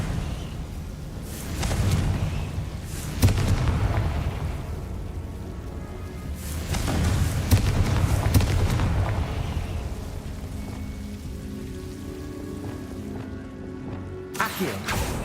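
Blasting spell explosions in the game Hogwarts Legacy, several rumbling booms with sharp bursts that swell and fade over a steady low background.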